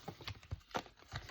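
Reading cards shuffled by hand in a quick run of soft, papery flicks and taps at close range, with no talking.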